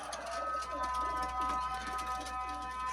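Pigeons of a costly show breed cooing in a loft, their soft repeated coos heard close under a steady background hum.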